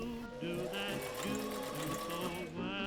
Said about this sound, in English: I top stitched around the edge of the brim as decoration and to reinforce the edge of the brim